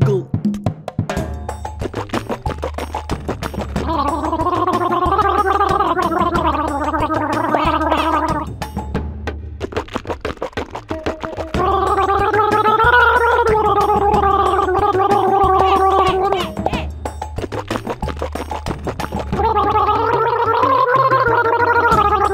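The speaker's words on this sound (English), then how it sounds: "great gargling" A child gargles mouthwash in a playful, musical way, the bubbling gurgle set over a steady beat of upbeat children's music, in three long bursts separated by short pauses.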